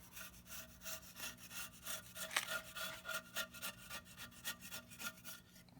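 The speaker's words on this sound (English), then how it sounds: "we're gonna get a scrape blade, and we're just gonna kind of lightly scrape this" A scrape blade is drawn lightly along the metal band of a Big Green Egg grill to remove the old gasket, giving rhythmic, close, raspy scraping strokes.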